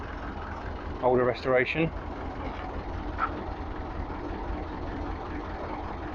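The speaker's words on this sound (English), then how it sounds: "Here we've got a County Fordson E27N, again with a 4-cylinder diesel in it" A County Fordson E27N tractor with a Perkins 4-cylinder diesel runs with a steady low rumble at a vintage summer auction, heard under a brief stretch of someone talking.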